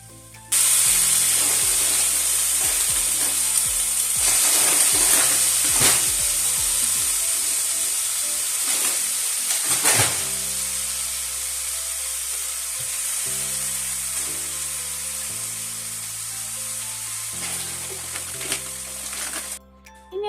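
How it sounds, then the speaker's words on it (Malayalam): Squid drops into a pan of frying masala and sets off a loud, steady sizzle that lasts throughout, with scattered clinks and scrapes of stirring close by, and no one speaking. "ഇനി ഇതിലേക്ക് നമ്മൾ കഴുകി വൃത്തിയാക്കി വെച്ചേക്കുന്ന നമ്മളെ കൂന്തലും കൂടി ഒന്ന് ഇട്ട് കൊടുക്കാം"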